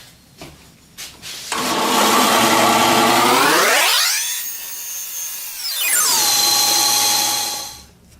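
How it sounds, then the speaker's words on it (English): A bandsaw cuts through a block of stabilised oak for knife scales, the motor whining up and dropping away twice as the blade bites and frees, loud and close with no talk. "cut this block of stabilised oak in half on the bandsaw"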